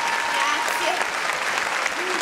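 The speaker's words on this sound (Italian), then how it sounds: "intanto prenditi l'applauso" An audience applauds a nine-year-old girl singer named Federica at a Christmas show, a dense, steady round of clapping that carries on throughout with voices mixed into it.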